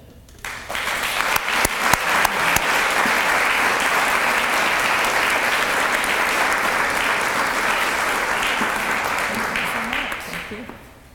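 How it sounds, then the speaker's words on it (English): A large room of guests at a human rights awards breakfast applauds the Pilot Club of Iowa City, with dense, loud clapping that swells quickly and holds steady for about ten seconds before fading, with no talking over it. "Please join me in giving a deserving round of applause for the Pilot Club of Iowa City"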